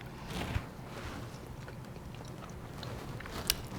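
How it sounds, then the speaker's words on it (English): Someone chewing a bite of meatball from Sunday sauce, quiet mouth sounds close up with two small sharp clicks over a low, steady background. "Let me taste the meatball."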